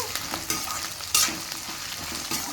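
Peanuts, coriander seeds, cumin, garlic and green chillies frying in oil for a tomato-peanut chutney, with a steady close sizzle broken by repeated stirring scrapes.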